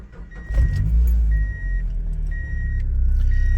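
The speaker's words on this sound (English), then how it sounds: "So now I'm going to start the car." A car engine starts up: a low rumble rises and settles into a steady idle, close and fairly loud, with a repeating electronic chime over it.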